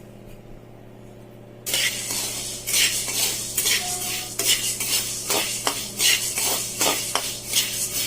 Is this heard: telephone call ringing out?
no